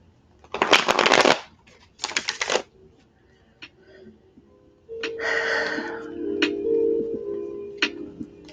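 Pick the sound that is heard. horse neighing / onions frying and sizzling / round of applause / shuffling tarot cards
shuffling tarot cards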